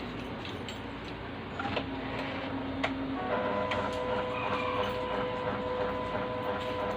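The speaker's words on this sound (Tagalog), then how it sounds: "Ganyan po talaga yung Epson L1300. Minsan nagpiprint siya, tas auto cleaning habang nagpiprint." An Epson L1300 inkjet printer prints a pocket calendar on 300 GSM double-sided photo paper, giving a steady mechanical whir with faint ticking and a rising motor tone partway through, close by.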